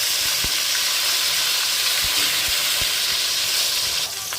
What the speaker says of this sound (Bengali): এরপর উল্টে নেওয়া হচ্ছে যাতে কই মাছের অপর সাইডটিও ভাজা হয়ে যায়।